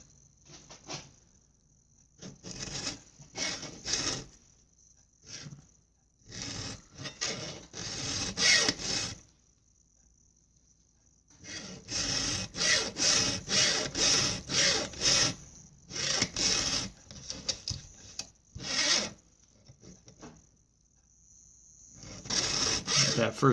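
A hand file rasps across chainsaw chain teeth in repeated short strokes, close and crisp, working in groups of passes separated by quiet pauses.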